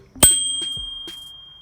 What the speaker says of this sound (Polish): Przy lekkim naciśnięciu dzwonek dzwoni.